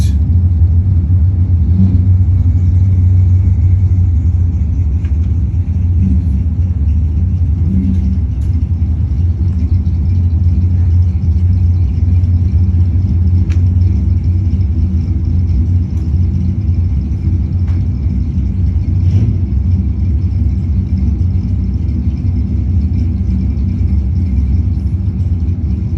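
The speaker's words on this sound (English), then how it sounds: "They both hit the throttle just a little bit too early" A 1980 Chevette and another car rev and launch at a drag strip, a loud, continuous low engine rumble with rising revs heard from close by.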